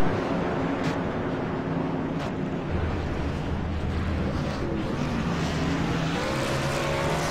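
Race cars move through pit road at Daytona during a special event, making a continuous dense roar of engines with faint squeals and passing swells. The sound stays loud and unbroken throughout.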